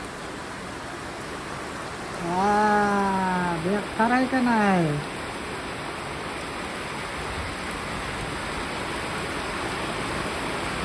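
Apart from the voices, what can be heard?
heavy monsoon rain outside a village house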